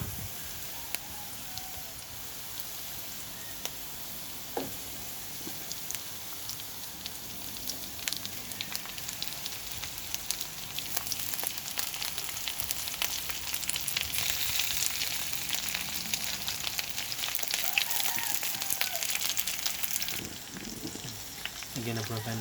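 Bangus (milkfish) steak sizzles steadily in hot oil in a pan, a dense crackling hiss with scattered sharp pops that swells slightly toward the end, no voices over it.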